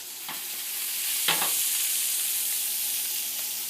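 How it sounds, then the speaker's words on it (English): French fries deep fry in a pot of oil on a stovetop, giving a steady, dense sizzle and crackle throughout. Two brief clatters of stirring or movement cut through it near the start. "I'm going to deep fry some french fries."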